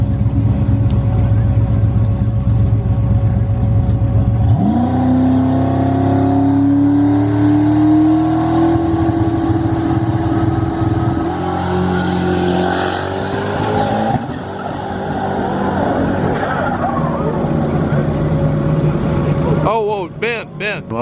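A turbocharged drag race car on a track, engine roaring at full volume as it launches, the pitch rising steadily through the run before the sound drops away near the end, loud and close.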